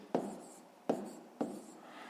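A pen writes on paper during a fifth-grade maths exercise, making three short scratching strokes spaced about half a second apart, each starting with a small tap and then fading; quiet and close.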